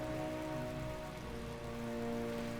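Rain falls steadily in Final Fantasy XII: an even, continuous hiss of drops on surfaces under a few sustained musical tones, with no voices.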